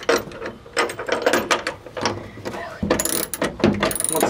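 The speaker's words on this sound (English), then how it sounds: "now we're gonna put the retractor in." Seat belt retractor going into a 1965 Ford Falcon, with close, irregular ratcheting clicks and mechanical rattles. The clicks get denser and louder in the last second and a half.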